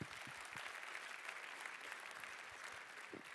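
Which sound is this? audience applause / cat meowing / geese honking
audience applause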